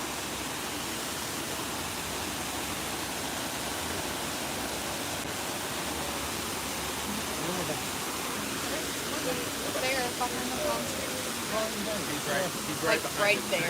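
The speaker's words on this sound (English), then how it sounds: "So this waterfall here is what you see from this trail over here." Waterfall at Disney's Animal Kingdom rushing in a constant broad hiss of falling water, with faint voices and crowd sounds rising toward the end.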